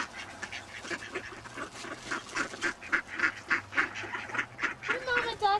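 A flock of ducks quacks and honks continuously nearby as they are fed bread outdoors, a dense overlapping chorus with a higher voice rising near the end.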